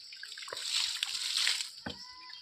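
Water is poured onto sun-wilted vegetable plants in a home garden in the evening, making a soft, fairly faint splash and slosh that swells and then trails off into a few drips.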